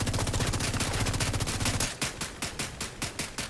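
Automatic gunfire in The Division 2 rattles in one dense continuous burst, then breaks into a slower run of distinct, evenly spaced shots, loud and close.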